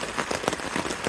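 Rain falls on a Dyneema tarp overhead during a November backpacking trip, a dense steady patter of drops with soft irregular taps, close and continuous, no talking.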